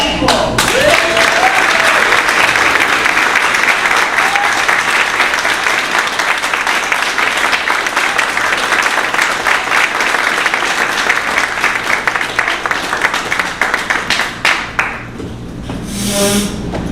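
Audience applause after a speech on equitable, pro-growth tax reform, a dense roar of many hands clapping that holds steady for most of the stretch before thinning and tapering near the end.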